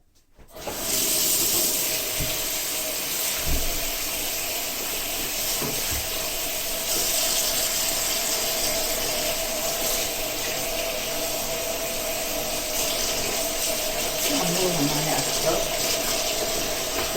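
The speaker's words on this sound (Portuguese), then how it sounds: "Então, passar água quente." Hot tap water pours steadily over tomatoes in a strainer in a home kitchen, a continuous close hiss and splash that starts abruptly and keeps running at an even level.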